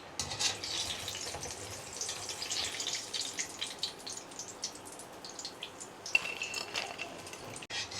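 Egg chops sizzle in hot oil in a home kitchen, a soft, steady crackle of frying broken by light clinks of a utensil as the pieces are lifted out, with a sharp knock near the end.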